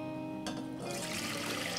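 White distilled vinegar poured into a container for a pickling brine, a steady splashing trickle that rises and fills out partway through, close and fairly quiet.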